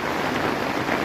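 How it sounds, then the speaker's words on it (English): Steady rain drums on a tent during a storm at night, a dense continuous hiss with gusting wind mixed in, loud and close with no one speaking. "it's raining"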